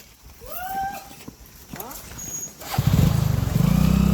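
A motorcycle engine rumbles up and revs near the end, passing close and growing louder, after a stretch of people chatting and background noise.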